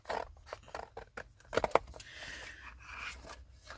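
Soft snipping of scissors, several quick cuts followed by faint paper rustling, close and quiet.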